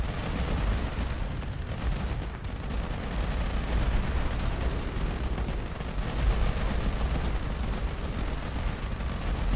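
Nova Cannon fire in the space combat game Starcore, a dense continuous rumble of blasts and crackling impacts with no voices.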